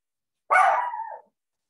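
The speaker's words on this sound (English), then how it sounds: "Sorry, my dogs are going crazy." A single short bark from a household dog, close and fairly loud, lasting under a second with silence before and after.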